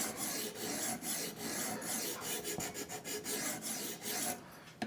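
A knife blade is stroked repeatedly against a guided sharpener's stone, producing a continuous rasping grind broken by quick rhythmic strokes, close and fairly loud throughout with no talking.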